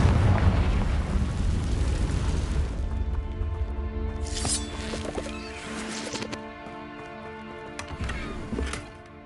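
Bombarda and Confringo spells explode in Hogwarts Legacy: a heavy booming blast opens, followed by several sharper bursts and crackles over sustained tonal music, loud and close.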